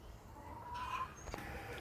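Hens clucking softly on a small farm, a few brief calls rising over steady outdoor background noise, close to moderately near, with no talk.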